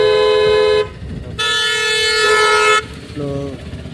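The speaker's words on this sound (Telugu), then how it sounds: "హార్న్ వాడండి" Several loud car horn honks, a long blast and shorter toots, with engine and traffic noise beneath, from a car in traffic between auto-rickshaws.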